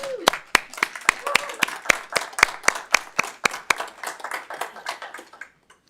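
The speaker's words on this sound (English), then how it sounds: "let's applaud them" Applause at a school board of trustees public meeting, a small group clapping with distinct, close individual claps in a loose rhythm that thins out and stops.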